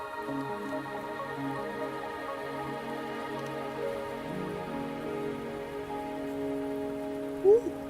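Steady rain falling in the video game Wuthering Waves, a soft even patter held at a low level beneath game music tones for the whole stretch.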